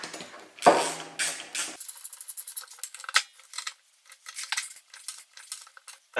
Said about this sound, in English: So I'll tighten those down.